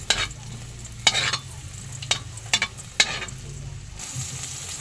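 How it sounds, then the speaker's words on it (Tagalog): Onion and garlic frying in oil in a pan: a steady sizzle broken by several sharp scraping strokes of a spatula against the metal, close up and with no talking. "Nilagay ko na din yung sibuyas at bawang natin."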